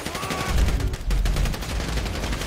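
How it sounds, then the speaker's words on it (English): Gunfire during a shootout in Grand Theft Auto V, with dense rapid bursts of automatic weapons and booming impacts layered under game sound, fairly loud and continuous with no clear speech. "Shooting our way out of here!"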